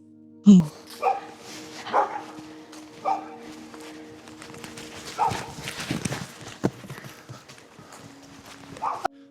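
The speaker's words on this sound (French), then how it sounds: "Alors, tu nous présentes? Oui, alors c'est Blue, il a 5 ans maintenant, c'est un berger australien" An Australian Shepherd dog, five years old, barks in a few separate sharp bursts among hoof-like clip-clop sounds and footsteps outdoors, with people talking quietly in between.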